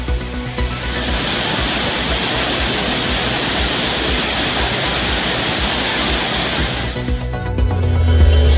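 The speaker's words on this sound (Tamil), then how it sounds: "குற்றால அருவிகளில் காட்டாற்று வெள்ளம்." Flash flood at the Courtallam waterfalls, a loud, steady roar of heavily rushing, crashing water filling the scene close up, unbroken for the whole stretch before a brief shift near the end.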